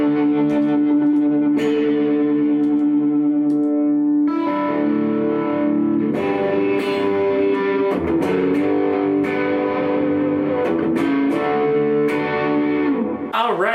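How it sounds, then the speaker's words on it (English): Electric guitar run through a Strymon Mobius modulation pedal on a session pedalboard, sustained chords and picked notes swirling with warbling modulation and echoing repeats, steady and loud throughout with no talking. "those are most of the sounds that I use with my Mobius"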